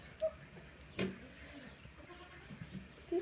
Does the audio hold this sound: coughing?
no